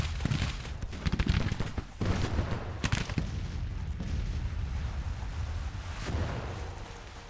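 Artillery fire in the Civil War strategy game Grand Tactician, heard as a scatter of sharp booms and cracks over a rumbling battlefield din, with several punchy hits early on and a steady low roar afterward.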